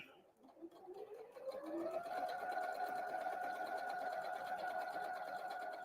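Sewing machine stitching across a fabric Christmas tree napkin, a steady high motor whine that ramps up and then runs continuously, close and loud, with no talking.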